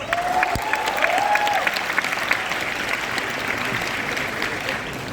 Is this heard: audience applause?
yes